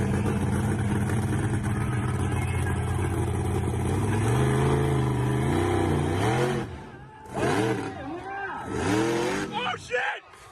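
A truck circles a race track at an event, its engine droning steadily and then revving up and down in rising and falling sweeps, with bursts of acceleration near the end under a noisy outdoor crowd.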